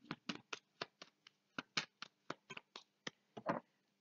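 Playing cards laid down one after another on a table during a tarot-style reading, a series of about fifteen crisp, close slaps and taps at an uneven quick rhythm, with no talking.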